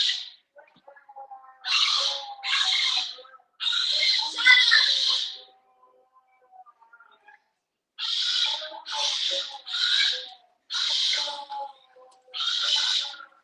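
A pet bird chirps and calls in repeated short bursts indoors, a run of four calls then a pause and five more, fairly close and moderately loud, with faint household sounds between.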